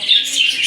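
Budgies chirp in quick, high twittering calls, a steady busy flock chatter that stays fairly close and continuous throughout.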